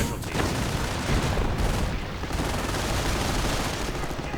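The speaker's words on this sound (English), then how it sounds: "MG Grenadiers firing through" Dense, continuous machine gun fire from MG grenadiers in a real-time strategy video game battle, rattling bursts and booms packed together with a voice speaking faintly underneath.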